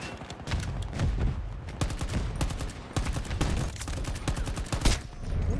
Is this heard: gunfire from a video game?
yes